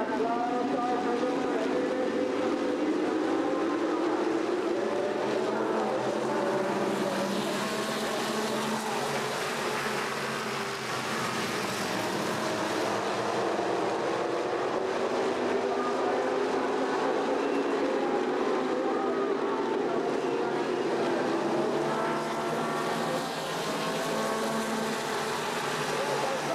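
Stock cars racing at I-44 Speedway in Lebanon, Missouri, their engines droning steadily with rising and falling pitch as the pack circles, a continuous roar at moderate distance, with a commentator talking over it.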